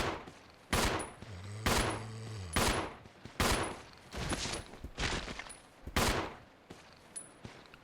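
Pistol shots ring out in Resident Evil 0 HD, roughly a dozen sharp cracks fired in an uneven rhythm over several seconds, loud and close against a quiet game backdrop, with no talking.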